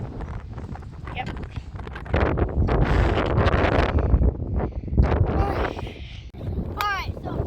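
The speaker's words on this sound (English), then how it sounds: "There goes a gust of wind." Gusty wind blows outdoors on a windy day, roaring and buffeting a nearby microphone in surging blasts. A brief whistling tone is heard near the end.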